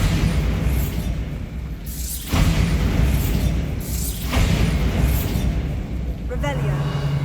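A Bombarda spell blast in the game Hogwarts Legacy, several booming bursts spread across the clip over a constant rumbling game soundscape, with a voice talking.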